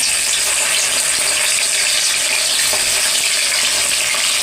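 Fish sizzles and crackles in hot oil in a kadai, a dense, steady frying hiss close by with scattered pops, no voices over it.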